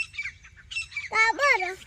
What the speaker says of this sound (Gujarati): કાબર નોય એનું શું કહેવાય કલકલિયું કહેવાય